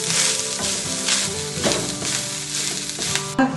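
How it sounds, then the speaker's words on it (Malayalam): Grated coconut with turmeric powder and cumin frying in hot oil in a pan, giving a steady, loud sizzle with occasional stirring scrapes, close and without speech. "നന്നായി വറുക്കാം."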